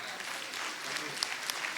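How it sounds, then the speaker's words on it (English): An audience at the International Nepali Film Award 2016 ceremony claps, a brief dense patter of applause with a few sharper individual claps standing out near the end. "they deserve a much bigger round of applause"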